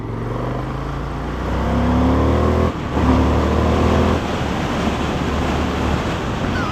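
An Indian FTR S motorcycle pulls away gently at about quarter throttle, its engine note rising in steady stepped tones under heavy wind rush from the moving rider's microphone.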